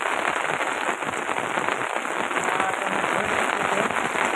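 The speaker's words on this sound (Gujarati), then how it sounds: "એકદમ પવન સાથે ફૂલ વરસાદ અત્યારના ચાલુ જ છે" Heavy rain driven by strong wind pours down in Rajula, a dense, loud, unbroken roar of drops striking surfaces, steady throughout with no voices.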